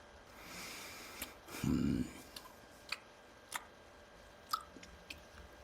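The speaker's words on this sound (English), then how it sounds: "I don't need to hear you slurping in my ears" In the Black Mirror video game, a character slurps loudly in one close, wet burst, then makes several short, sharp mouth clicks and smacks spaced out over quiet room tone.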